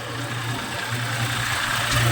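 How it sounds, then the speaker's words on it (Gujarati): A tractor engine runs steadily while driving along at slow speed, a continuous low mechanical drone with a constant hum, close and fairly loud, with no voices. "અત્યારે ટ્રેક્ટર લઈને જઈએ છીએ"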